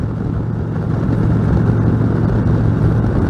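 A touring motorcycle engine drones steadily and loudly while riding, a dense low rumble with constant wind noise and no change in pace.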